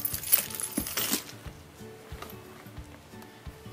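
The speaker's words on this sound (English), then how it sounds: "And I'm going to be putting in my keys." Metal keys jangle and clink as they are packed into a bag, with bright rattles at the start, then quieter shuffling.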